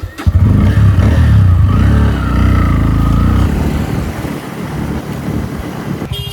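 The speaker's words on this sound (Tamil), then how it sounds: "வண்டி ஸ்டார்ட் பண்ணியாச்சு" A motorbike engine running while being ridden through city streets in Chennai, loud and close with heavy wind buffeting, pulling strongly at first and then easing to a lower rumble.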